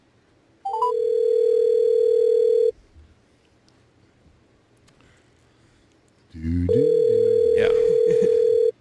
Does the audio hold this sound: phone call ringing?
yes